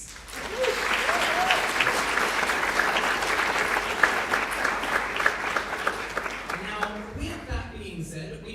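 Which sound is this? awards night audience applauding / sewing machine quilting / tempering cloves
awards night audience applauding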